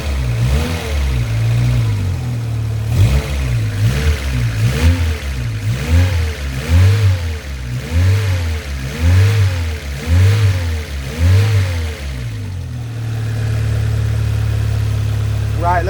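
A Vauxhall Corsa B car engine runs steadily with a rhythmic, pulsing throb and repeated revving swells, close and loud, with a light ticking from an exhaust manifold leak; it then settles into an even idle near the end.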